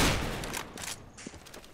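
Gunfire in the video game Counter-Strike: Global Offensive: a brief, fairly loud flurry of rapid shots that quickly tapers into scattered fainter pops, with no talk.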